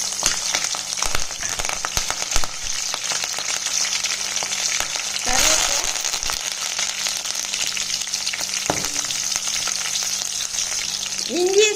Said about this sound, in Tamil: ஒரு வடைச்சட்டி அடுப்பில் வச்சுக்கிட்டு எண்ணெய் ஊற்றிக்கலாம். கடுகு போட்டுக்கிறேன். அடுத்து பச்சை மிளகாயை சேர்த்துக்கலாம்.